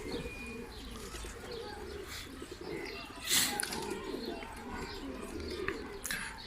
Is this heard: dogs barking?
no